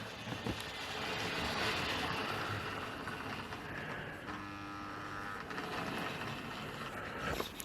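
A Lima model locomotive, a large 94XX Pannier tank, runs steadily over points on a model railway, giving a continuous near whirring motor hum with faint rail clicks.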